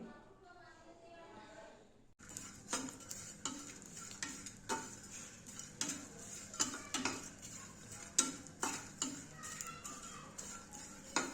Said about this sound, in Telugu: ఇలా బాగా వేయించుకోవాలండి బాగా వేయించుకొని చూడండి